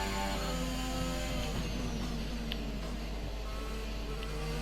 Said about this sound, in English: As you can hear, the new Renault engine in this car.